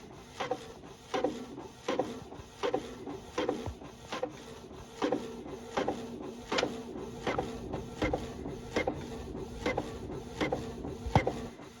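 Printer feeding and printing sheets, a quick run of regular mechanical clicks and rubbing strokes repeating at an even pace, fairly close and quiet with no talk.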